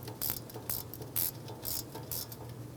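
A hand ratchet clicks in short bursts, near and fairly quiet, as a wheel speed sensor bolt is snugged down on a 2013-2016 Dodge Dart during front axle work.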